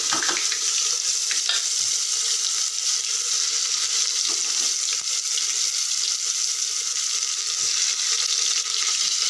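Cumin seeds, chopped onion and garlic fry in hot oil with a steady, loud, close sizzle and a few faint stirring clicks, and no voices.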